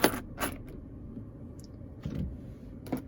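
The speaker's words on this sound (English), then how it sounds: "I just put the keys here." Keys for a 2021 Nissan Versa SV drop into a black plastic console cutout, making a few close jingling clinks and light taps amid quiet cabin hush.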